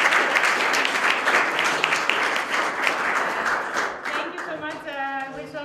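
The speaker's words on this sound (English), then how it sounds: "So please join me in to give an applause." Audience applause, a dense wash of many hands clapping that gradually thins and fades out.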